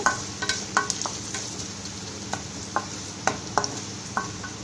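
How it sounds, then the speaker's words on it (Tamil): Curry leaves and asafoetida sauté in a pan under a steady background sizzle, with repeated sharp clinks and scrapes of a spoon stirring at an irregular pace. "அப்புறம் கருவேப்பிலை ஆட் பண்ணிட்டு நல்லா வதக்கிக்கோங்க."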